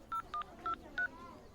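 Four short electronic keypad beeps in quick succession, like digits being dialed on a phone, with faint background noise between tones.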